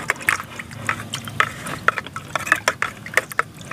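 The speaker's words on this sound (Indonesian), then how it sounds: "Setelah itu kita aduk rata." Coffee grounds mixed with molasses being stirred in a container, repeated close clinking and scraping strokes in an uneven rhythm, alone.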